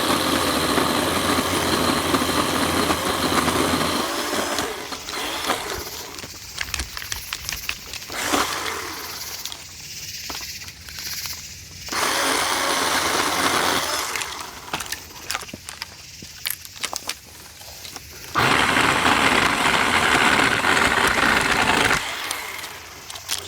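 A Ryobi 18-volt cordless pole saw cuts through a tree branch, its motor whirring in loud bursts that start and stop with quieter gaps between them.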